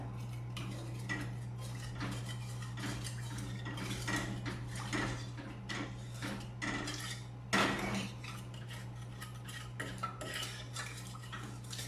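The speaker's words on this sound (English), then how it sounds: "It takes a little bit of stirring." A utensil stirs sugar as it dissolves for a pineapple cake, giving a steady run of soft clinks and scrapes against a bowl over a constant low hum, with one louder knock partway through.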